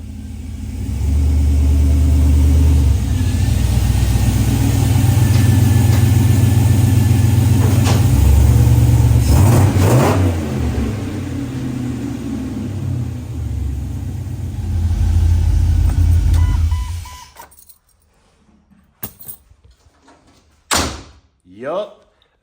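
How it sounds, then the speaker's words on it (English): A Jeep engine running and driving, a loud steady rumble with revving that holds for most of the stretch, then cuts off abruptly, followed by a few brief knocks and sounds in near silence. "The Jeep is officially running and driving."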